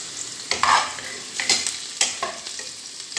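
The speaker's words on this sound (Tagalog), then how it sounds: "ginigisa ko muna yung sibuyas" Onion and garlic sautéing in a pan for stewed mushrooms, with a spoon stirring in several scraping bursts over a soft, steady sizzle, close and fairly quiet.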